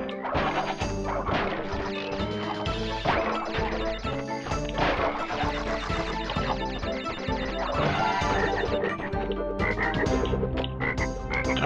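Frogs croak within Crash Bandicoot 3 gameplay, the calls blended into dense, continuous game music with rhythmic thumps and crashes throughout.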